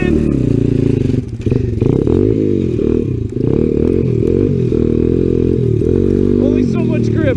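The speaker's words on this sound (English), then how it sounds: "around the inside on a dirt bike in the snow" A Honda XR 100 dirt bike is ridden in snow on regular tires, its small engine loud and close, revving and droning steadily with brief throttle dips as it takes a turn, and a voice briefly whoops.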